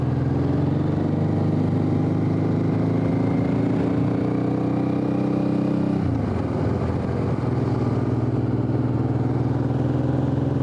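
Motorcycle engine running steadily while riding on country roads, a continuous loud drone near the mic whose pitch rises slowly then drops sharply partway through as the throttle is eased, then holds lower.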